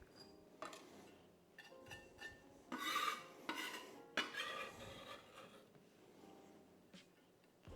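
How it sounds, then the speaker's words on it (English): A knife runs through fresh lemongrass, finely cutting it on a board in a home kitchen, giving faint, irregular scraping and tapping strokes that bunch into short busy runs, with no talking. "I'm just going to run a knife through it and just make sure it's all finely cut up"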